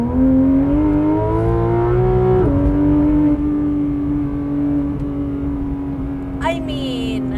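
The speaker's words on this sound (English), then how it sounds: "So that is the 2019 Porsche 911 GT3 RS" A 2019 Porsche 911 GT3 RS (991.2) engine on a race track gives a loud, continuous, tonal drone. Its pitch drops sharply once, like a gear change, then holds steady before a brief rising whine near the end.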